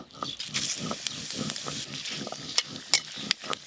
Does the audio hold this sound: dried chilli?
yes